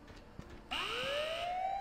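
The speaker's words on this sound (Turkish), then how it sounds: "Ya alarm veriyor. Yine alarm veriyor." In the horror video game Ice Scream 8, an alarm suddenly starts with a rising electronic wail that climbs and holds steady, loud and alone after a brief quiet stretch with a few faint thumps.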